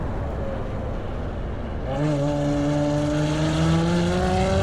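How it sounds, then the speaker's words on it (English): A Ferrari F12 Berlinetta's V12 drones steadily, then opens up and roars louder, its pitch climbing smoothly and sustained as the car accelerates through mountain roads, close and alone. "the feeling you get when the V12 roars through the mountains"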